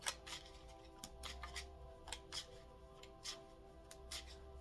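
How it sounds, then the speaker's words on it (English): Soft, rapid riffling of tarot cards being shuffled, a steady run of quiet papery flicks with occasional sharper snaps over low room hum. "until I feel the need to stop shuffling"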